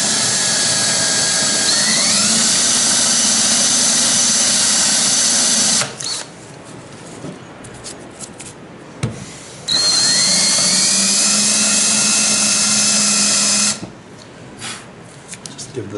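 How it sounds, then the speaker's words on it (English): Power drill boring a pilot hole into hard hickory wood for a plaque mount, two sustained loud whining runs of several seconds each with the pitch rising as the motor spins up, separated by quieter pauses. "I'm actually gonna drill a pilot hole just to get started"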